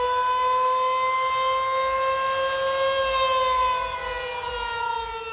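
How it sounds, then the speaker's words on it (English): Outdoor tornado warning sirens wail across Dallas at night, a steady sustained tone with strong harmonics that holds loud and even for several seconds, then eases slightly as the sound rotates away. "There are 156 warning sirens in Dallas, and every single one of them went off"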